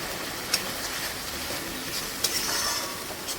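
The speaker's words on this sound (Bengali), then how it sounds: "ভালো করে মশলাটা কষিয়ে নেব।" A spice paste of ground coriander, ginger and dried red chilli with salt and a little sugar sizzles steadily as it is stirred and fried in a pan, a soft continuous hiss with a few light scrapes.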